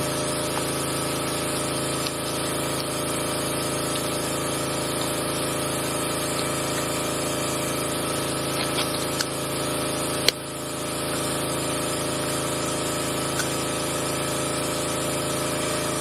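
A home cryocooler runs steadily while making liquid nitrogen, a constant mechanical hum with a faint tonal whine and a brief click partway through, no voices.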